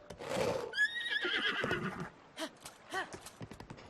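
A horse in Zelda: Breath of the Wild gives a loud, falling whinny followed by a few snorts and sharp hoof clops, close and alone.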